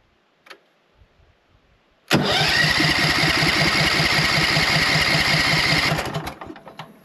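A gasoline engine on a Logosol band sawmill catches abruptly after a small click and runs loud and steady with a fast, buzzing pulse for about four seconds, then cuts out and sputters down.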